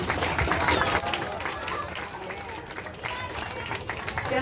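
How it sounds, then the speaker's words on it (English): A studio or event audience applauds an elephant musician, Rosie, who plays the harmonica, giving a steady wash of clapping and crowd noise for several seconds. "Big round of applause for our elephant musician."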